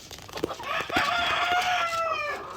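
Hens on a farm, nearing laying age, giving loud close clucks followed by a long drawn-out cackling call that rises and holds, with a few short clucks before it.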